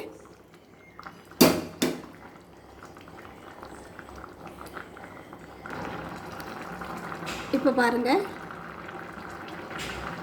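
Karaikal kattu soru rice simmers in a pot over a medium flame with a soft, continuous bubbling. A couple of sharp clinks come early, and someone speaks briefly near the end.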